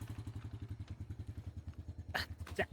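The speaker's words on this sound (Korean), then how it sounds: "쑥의 여자친구의 오빠가 저 먼저 데려다 준다고 오토바이 시동 걸고" Motorcycle engine idling close by with a steady, even pulsing throb, then a couple of sharp clatters and thumps near the end as it prepares to ride off.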